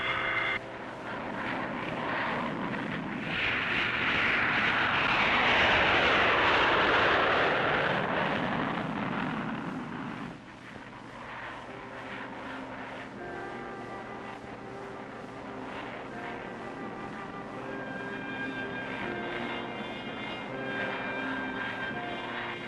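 An aircraft carrying an Army field hospital unit takes off for Anchorage, its engines swelling into a loud roar as it passes, then fading to a steady distant drone.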